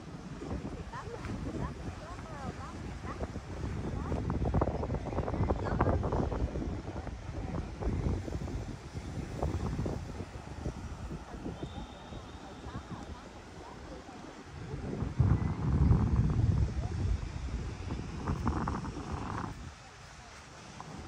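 Strong wind buffets the microphone outdoors at a seaside amusement park in Hội An, Quảng Nam. It makes a continuous low rumble that swells in gusts, and people talk underneath it.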